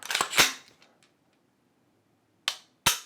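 Sharp dry-fire clicks from a Rise Armament 434 rifle trigger with about 0.5 mm of creep and a 3.5 lb pull: two quick snaps at the start, then silence, then two more crisp clicks close by.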